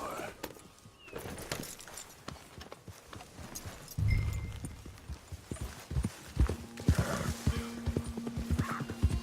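Hooves clopping on the ground in an irregular rhythm with a horse snorting and whinnying close by, with some rustling in the background, in the video game Red Dead Redemption 2.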